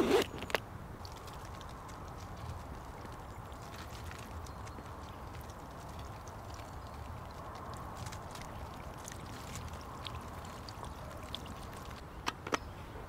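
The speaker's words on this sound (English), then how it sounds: "Time for a downpour." About 2 litres of water are poured over a Rockbros B68 top tube bag on a bike, giving a faint, steady splashing trickle. A few sharp clicks sound near the start and end.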